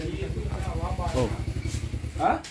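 A motorcycle engine idles with a steady low, throbbing pulse while its carburetor is tuned, running continuously under close talking from people nearby.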